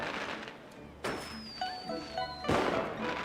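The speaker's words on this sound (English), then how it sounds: "Whoa! Fireworks!" Fireworks bursting during a lantern festival in the video game Genshin Impact, two sharp cracks about a second and a half apart, each trailed by a rising whistle, over steady game ambience.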